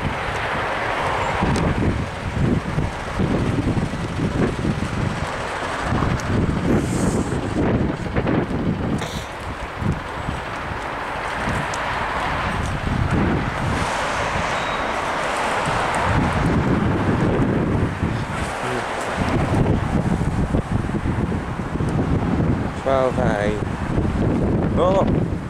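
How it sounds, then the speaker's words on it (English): Gusty wind buffets the microphone beside a Brighton and Hove bus on route 12A at Seaford Station, loud and roaring in uneven surges throughout, with a faint voice now and then. "Gusty, gusty, gusting wind."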